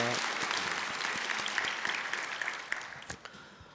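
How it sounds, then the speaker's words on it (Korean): A church congregation applauds after a hymn, a moderate round of many hands that gradually thins out, individual claps becoming more distinct as it fades toward the end. "우리 다시 한번 귀한 찬양 우리 박수로 한번 격려합시다"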